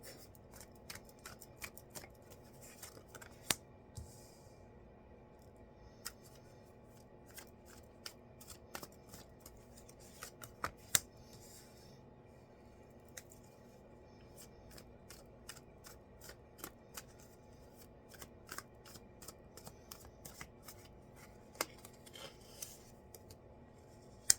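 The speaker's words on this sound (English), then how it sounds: "let me lay out these cards so I do not misspeak" Tarot cards being laid out, giving sparse, quiet ticks and soft snaps of cards set down or shuffled at irregular intervals over a low, steady background hum, with no voices.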